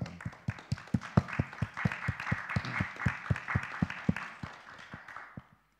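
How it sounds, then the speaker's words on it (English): An audience applauds a speaker after a discussion talk, a small group clapping at a quick, fairly even rhythm with distinct individual claps, fading away near the end. "Give her a round of applause."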